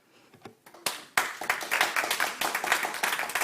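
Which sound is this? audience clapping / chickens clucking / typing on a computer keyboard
audience clapping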